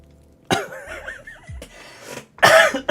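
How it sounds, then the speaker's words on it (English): A person in an indoor room coughs sharply and nearby, then breathes and clears the throat, with a final burst of harsh coughing near the end. "Coughed and just caused a small explosion of saliva."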